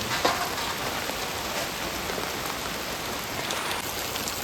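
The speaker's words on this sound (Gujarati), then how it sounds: "મસ્ત મજાનો ને વરસાદ આવી ગયો" Steady rain patters on a surface in a Botad village, a dense even hiss of drops that continues unchanged from start to finish.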